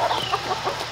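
Hens at a homestead chicken coop, part of a flock of fourteen laying birds, give a short burst of soft, close clucking and murmuring calls.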